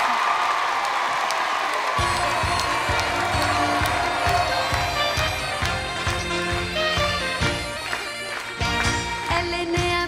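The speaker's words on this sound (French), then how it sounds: "Applaudissements" A studio audience at the French television show L'École des Fans cheers and claps loudly. After about two seconds, a song's instrumental intro starts and plays over the continuing applause.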